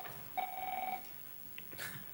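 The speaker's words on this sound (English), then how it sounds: "I've never had that phone ring before." Telephone in a courtroom giving one short electronic ring, a clear steady tone lasting about half a second, faint in a quiet room with small noises afterward.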